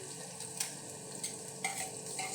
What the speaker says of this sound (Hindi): माशाल्लाह प्याज भून रहा है, इसको अब इसी के साथ हम ये डाल देंगे लहसुन अदरक और मिर्चों का पेस्ट।